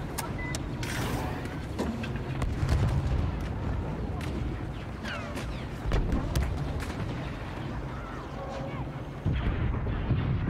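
Blaster gunfire from the Star Wars Battlefront II video game, with repeated sharp shots and bursts over a dense, continuous battle din of explosions and engine rumble, loud throughout.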